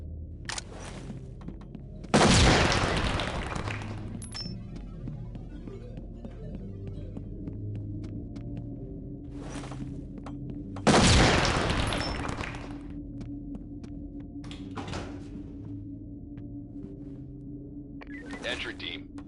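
Two loud, sharp bursts spaced several seconds apart, each followed by a ringing decay, from flashbang grenades in the SWAT 4 video game, set against a low pulsing hum and scattered small clicks.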